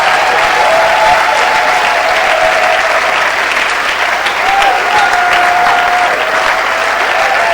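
Steady, loud applause from a church congregation fills the whole stretch, a dense continuous clatter of many hands with no voices breaking through.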